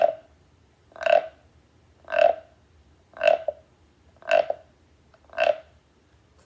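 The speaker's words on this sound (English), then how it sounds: "This is going to create the sound of the frog guiro, which sounds very similar to a croaking frog." A wooden frog guiro rubbed along its ridges with a mallet gives six evenly spaced rasping croaks, each about a second apart, loud and close with silence between.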